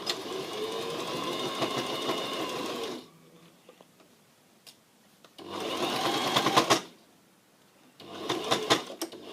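A sewing machine stitches a patch pocket onto a vest in three steady runs of close, mechanical whirring, each broken off by a short near-silent pause.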